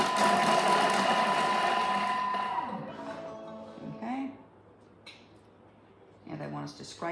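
A Thermomix chops a small brown onion for a few seconds at speed 5: a loud, steady whirring machine drone that runs for about two and a half seconds, then cuts out, leaving quieter kitchen sounds and a voice speaking.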